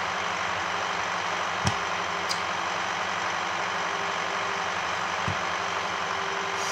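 Farming Simulator 19 tractor engine running steadily as it drives, a continuous low mechanical drone with a couple of brief clunks partway through.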